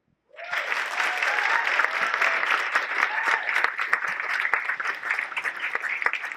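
Audience at an Ignite Talks event at MSU breaks into sustained applause after a presentation on bridge safety, a dense steady wash of many hands clapping that starts abruptly and holds for several seconds, with no talking over it.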